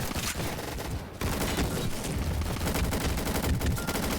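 Sustained bursts of rapid gunfire from a powerful, scopeless gun in a first-person shooter game fill the whole stretch, dense and loud, with a brief gap near the start.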